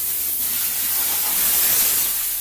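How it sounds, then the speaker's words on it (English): A steam cleaner blasts leaves and debris out of a car's cowl and wiper area with a loud, continuous, close-up hiss of pressurized steam and no speech. "So with the steam pressure, we can get into these areas"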